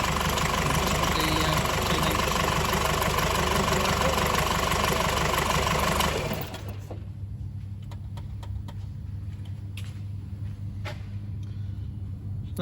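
A Nissan X-Trail engine idles steadily nearby, then the tone drops to a quieter, lower hum about halfway through, with faint clicks over the running engine.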